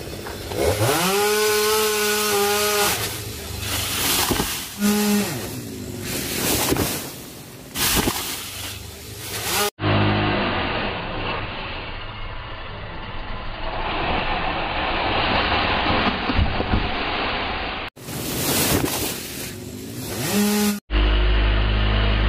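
A chainsaw roars loudly and close, revving up and down as it cuts a tall tree, with brief pauses and abrupt changes in engine pitch throughout.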